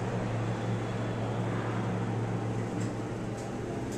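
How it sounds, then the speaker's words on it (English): An OTIS elevator motor at the bullpen gate at Citi Field in Flushing, NY runs with a steady, loud droning hum and a broad whooshing rush, unchanging throughout with no talking. "Let me hear the motor."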